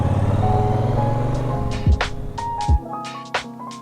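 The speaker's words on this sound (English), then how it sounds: "I'm struggling to concentrate in this traffic and talk." Road traffic in East London near Victoria Park, with a loud idling vehicle engine rumbling close by, a few sharp passing whooshes and higher engine tones, and a hum that fades as the traffic moves.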